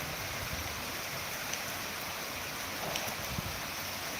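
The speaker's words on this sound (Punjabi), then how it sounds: "ਵਿੱਚ ਮੀਂਹ ਪੈ ਰਿਹਾ" Morning rain falls steadily with a dense, even hiss of drops on surfaces, faint but constant throughout, with no voices.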